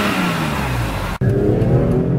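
BMW M3 and M2 engines revving hard toward an 8,000 RPM redline, loud and close, a steady high-revving drone with a brief drop near the middle as the gear changes, then climbing again with no talk over it.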